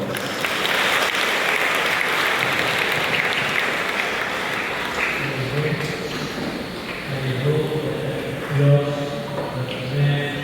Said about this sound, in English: Let us give him a warm round of applause.